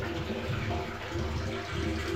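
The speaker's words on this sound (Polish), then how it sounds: "W środku woda się już nalewa do zbiornika." A steady, even rush of water pours into a septic tank at a home sewage treatment plant. The flow stays constant and moderately loud, with no voices over it.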